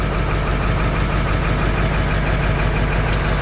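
A 1999 Ford F450 crew cab dually with a 7.3L diesel engine idles in a steady, loud, rough clatter that stays even throughout.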